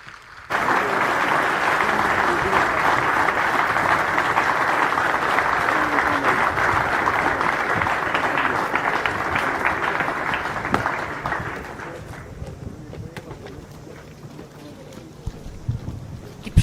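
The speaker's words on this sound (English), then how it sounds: "please give a huge round of applause to all the awardees and the Champion Squadron" Audience applause at the Indian Naval Academy passing out parade, outdoors, with loud, dense, sustained clapping for about eleven seconds that then fades into windy open-air noise and scattered late claps.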